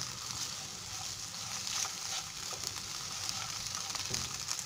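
Scrambled egg and chicken sizzling in a pan for chicken vegetable egg noodles, a soft continuous fry hiss with faint scraping as the mix is stirred.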